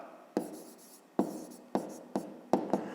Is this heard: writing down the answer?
yes